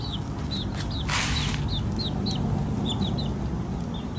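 Chickens on a small Thai farm where pigs, goats, cattle and ducks are also kept, giving short repeated clucks and chirps over a steady rumbling background, with no talking.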